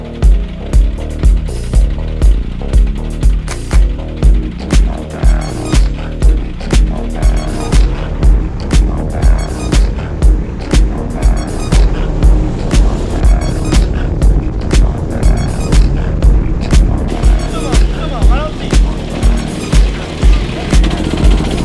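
Go-karts at a kids' race event produce a continuous loud engine drone that throbs in a steady, repeating pulse as the karts lap the track. The roar stays dense and constant throughout, with no clear speech.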